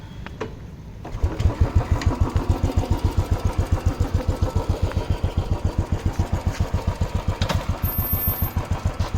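A Royal Enfield Bullet motorcycle engine starts up after a quiet moment and settles into its loud, close, evenly thumping beat that runs steadily to the end, with no talk over it.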